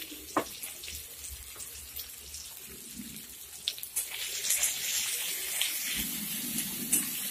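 Ground spice paste fries and sizzles in a pan for a recipe of shidol shutki with moucha ghonto, giving a steady close crackle that grows a little louder and denser partway through.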